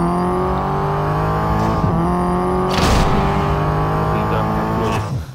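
Race car engine in the Real Racing video game, a sustained loud harmonic drone with shifting pitch as gears change, a brief surge around mid-run, and a voice talking over it in the background.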